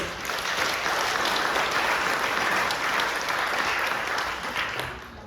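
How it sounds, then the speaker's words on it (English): A congregation at a church worship service gives a round of applause, a full, even burst of many hands clapping that carries on steadily before fading slightly at the end. "Shall we give them a round of applause?"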